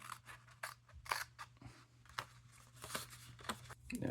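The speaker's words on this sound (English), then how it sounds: "simply get in there and cut out your decals" Scissors snip through a sheet of model decals in a quick, irregular series of close, crisp cuts with faint paper rustling between them.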